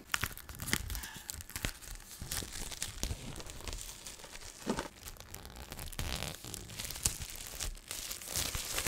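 Plastic packaging on a pack of two school notebooks is torn open and crinkled close up, with a continuous run of ripping and crackling bursts and no talking.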